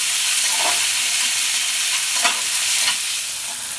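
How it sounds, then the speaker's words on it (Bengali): Chopped capsicum and tomatoes stirred in a hot pan, a continuous close hiss of frying punctuated by three or four brief scraping strokes of a spoon, with no voices. "দিয়ে একটু নেড়ে নেব"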